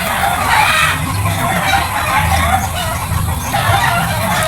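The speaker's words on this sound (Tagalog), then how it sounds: "Naririnig ko pa rin yung mga manok sa kabila" Chickens cluck and squawk in a busy, continuous jumble, fairly close, with a steady background hum and some faint voices mixed in.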